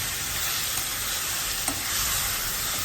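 Cloves and cinnamon sautéing in a pan while being stirred, a steady broad sizzle with a faint scrape of the spoon partway through.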